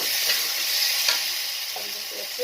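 A spice masala for bhetki fish tel morich is sautéed in a pan, giving a continuous close hiss of frying with a few soft scraping strokes of stirring.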